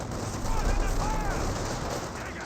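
Company of Heroes battle gunfire forms a continuous, dense rumble of distant rifle and machine-gun fire mixed with booms, with a commentator talking over the din.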